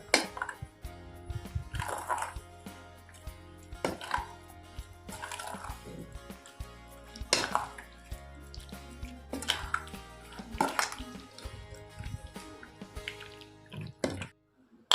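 Prawns being mixed by hand with green chilli, black pepper and garam masala in a bowl for prawns koliwada, wet squishing and clicking sounds in irregular bursts, close and quiet.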